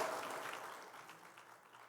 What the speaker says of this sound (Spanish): Démosles un buen aplauso a este hermano.